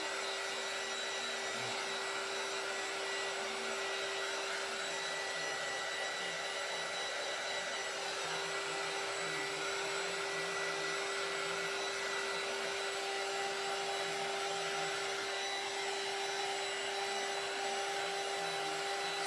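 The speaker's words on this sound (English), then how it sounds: "So I'm going to take my little hot gun here and dry it again." A small heat gun blows without a break while drying paint on a board, a steady close whooshing roar with a constant tonal hum and no pauses or speech.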